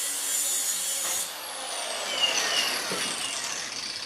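A grinder smooths welds on a car cross member, a loud continuous abrasive whine close by that drops in pitch midway as the tool spins down and then bears in again.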